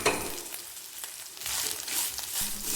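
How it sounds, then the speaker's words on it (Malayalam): Grated coconut fries in a little oil for Malabar-style koottucurry, making a continuous close sizzle with a few soft stirring scrapes, growing slightly louder toward the end, with no voices. "ചേർത്ത് കൊടുത്തിട്ട് നന്നായിട്ട് ഫ്രൈ ചെയ്യണം"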